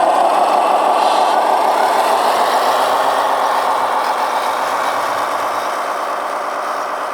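Sound system in an RC Kenworth truck, a steady idling diesel-style engine drone with a fine rhythmic rumble, loud and close, running alone for several seconds without talk.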